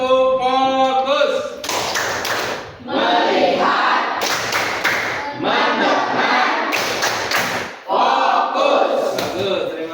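A class plays the rhythmic clapping game tepuk fokus during an Islamic religious education lesson, with tight clusters of sharp claps alternating with the group chanting together.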